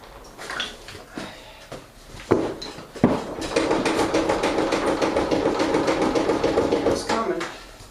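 Workers unbolt a tire from a tractor rim: sharp metal knocks and clanks, then a sustained rattling power-tool burst lasting several seconds, close by, with talking around it.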